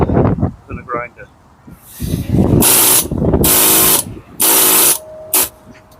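A compressed-air tool rakes cement mortar from brick joints in loud, close bursts of rapid hammering rasp, several on-off runs with short pauses between, and someone talks at the start.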